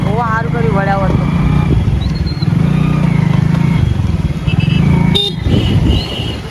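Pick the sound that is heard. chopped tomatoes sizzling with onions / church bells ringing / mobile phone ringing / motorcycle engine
motorcycle engine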